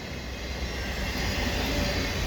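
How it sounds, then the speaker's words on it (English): A steady, dense rumble of an EXO commuter train rolling past, continuous broadband rail noise with no voices, holding level throughout. "Oh, there it is. Okay, that's a commuter train,"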